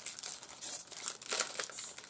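The foil wrapper of a 1990s Disney trading card pack crinkles and crackles in close, irregular bursts while being handled and opened.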